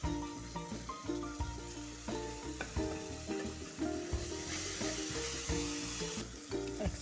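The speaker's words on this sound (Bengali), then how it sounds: "ভাজা হয়ে গেছে, এখন টমেটো পেস্টটা ঢেলে দিব।" Tomato paste fries with ground spices in a pan for a fish curry, a steady low sizzle broken by repeated clinks and scrapes of a spoon stirring.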